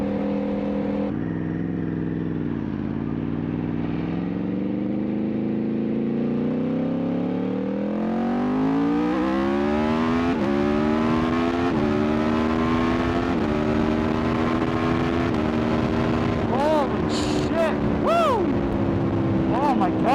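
A BMW M2 xDrive with a Stage 1 tune accelerates hard through the gears on a highway. The engine note climbs and drops again at each shift, loud and close from inside the car, with brief whoops of excitement near the end.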